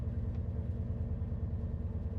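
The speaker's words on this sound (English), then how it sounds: "just the engine sounds a little bit different" A train engine in Train Sim World 6 drones with a steady, growly low rumble, close and unbroken, with no talking over it.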